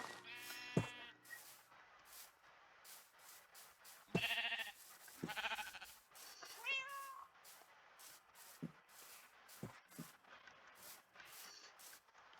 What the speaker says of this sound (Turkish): Koyun var.